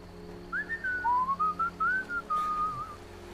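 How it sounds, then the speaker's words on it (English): A person whistles a wavering, bird-like melody of several sliding notes in short phrases, fairly close and clear, over a soft steady low hum with no talking. "you come up with some really amazing whistles"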